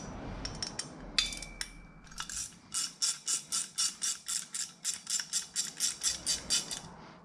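A ratchet wrench clicks in rapid, evenly spaced bursts while loosening the three bolts on the muffler cap of a Honda Navi exhaust, with a few metallic taps first, then a steady close run of sharp ratcheting strokes.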